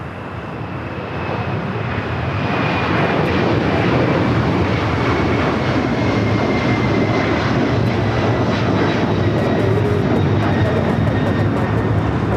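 Airliner departing runway 25 right at LAX, its engine roar building over the first couple of seconds into a loud, sustained broadband rumble and whine that holds steady throughout, no voices heard.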